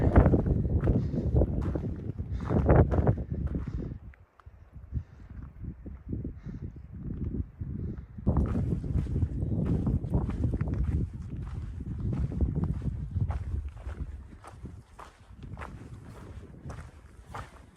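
Strong gusty wind buffets the microphone in a continuous roar at an exposed campsite on the Pacific Crest Trail, dropping briefly before surging back with rough, fluttering bursts.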